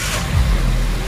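A 2001 Audi S4 with the 2.7-liter twin-turbo engine, suffering a cylinder misfire, idles after a restart, giving a steady low rumble that stays close and continuous.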